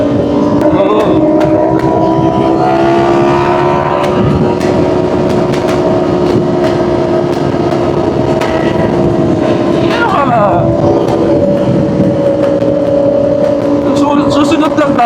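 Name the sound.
Ducati motorcycles riding with loud exhausts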